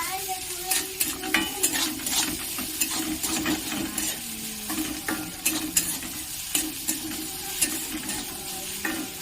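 Ginger and garlic frying in hot oil with onions, sizzling steadily while a spoon scrapes and stirs the pan in repeated sharp clicks, close and fairly loud, with no talking.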